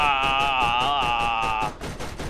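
Rapid automatic gunfire from the video game Borderlands hammers out a steady, evenly spaced stream of loud shots under a sustained high whining tone that cuts off near the end while the shooting continues.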